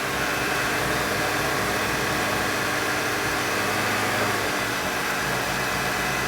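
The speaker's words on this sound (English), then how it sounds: "And again, the motor should run a little rough." A 2013 VW GTI 2.0L turbo engine idles roughly while being cleaned, a steady broadband engine drone holding at constant level throughout with no talk.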